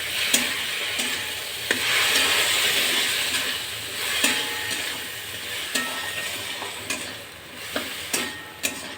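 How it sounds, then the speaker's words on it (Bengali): Rice sizzles while being fried in a pan for pulao, a steady bright frying hiss broken by repeated sharp scrapes and taps of a stirring spoon against the pan. "চালটাকে একটু ভাজা ভাজা করতে হবে।"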